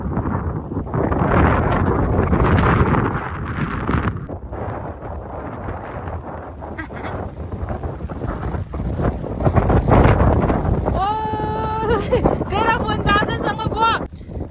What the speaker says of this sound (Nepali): झन्नै हावाले उडायो हामीलाई